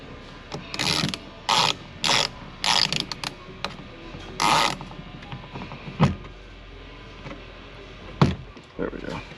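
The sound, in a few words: ratchet and socket removing door bolts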